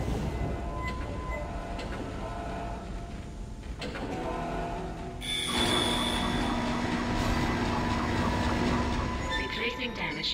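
Tram car in the game Dead Space rolling along its rails with a broad metallic rumble, swelling louder midway, with faint tonal hums and voices beneath.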